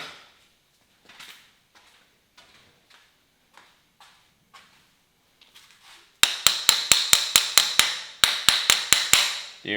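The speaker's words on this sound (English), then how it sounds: "Okay, this is a little plastic mallet." A small plastic mallet taps a motorcycle waffle floorboard into place, first with scattered light knocks, then a rapid run of about a dozen sharp, close, evenly spaced hits.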